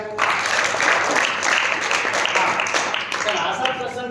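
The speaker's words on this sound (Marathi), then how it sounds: "त्याला टाळ्या वाजूया" Applause from an audience at a small gathering as a guest is honoured with a pen, a dense continuous patter of clapping with voices talking over it.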